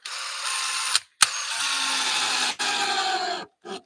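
A power drill or driver drives screws into material during a home renovation, with several bursts of steady whirring and ratcheting broken by brief pauses, loud and close, with no talking.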